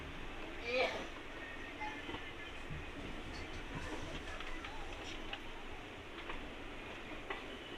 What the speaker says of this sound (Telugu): ఈ ట్రైన్ని పుల్ చేసే లోకోమోటివ్ వచ్చేసి వ్యాప్ 4 లోకోమోటివ్